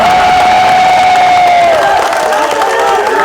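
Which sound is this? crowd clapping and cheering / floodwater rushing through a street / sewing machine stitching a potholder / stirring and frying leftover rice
crowd clapping and cheering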